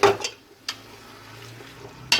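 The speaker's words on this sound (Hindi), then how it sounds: "इसको 5 से 10 मिनट हम भूनेंगे" Beef keema is stirred and fried in a pot, with a metal spoon clanking and scraping against the pot in three sharp hits over a low sizzling background, heard up close without any talking.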